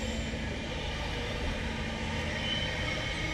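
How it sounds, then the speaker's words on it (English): A tilt train rushes past close by with a steady, dense roar of wheels and rumble that holds level throughout, with no voices heard. "It's a tilt train,"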